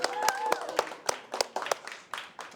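A small crowd claps at a wrestling-themed awards show, with sharp irregular hand claps over about two and a half seconds, fairly close and moderate in loudness, and some chatter mixed underneath.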